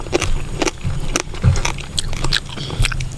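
Crisp food bitten and chewed outdoors in a garden during a rice meal, with repeated crunchy bites and wet chewing at close range, several sharp crackles standing out over steady low background noise.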